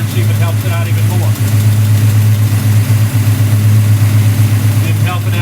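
A car engine fitted with a Street Demon carburetor idles loudly and steadily during a carburetor adjustment, with a deep constant hum. Someone talks over it.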